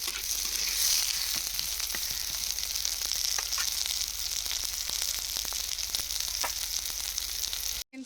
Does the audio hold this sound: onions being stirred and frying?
yes